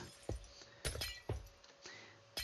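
Glass panes shattering in a video game while doors and trapdoors are placed, several sharp crashes with tinkling debris spaced irregularly across a quiet background with a faint steady tone.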